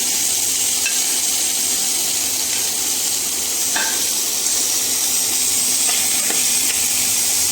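Tomatoes and green chillies for a masala dosa filling fry in a pan, a steady soft sizzle and hiss running throughout with a few faint scrapes of stirring, no voices.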